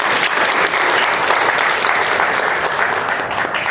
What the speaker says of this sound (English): Please receive the warm greetings with a hand clap.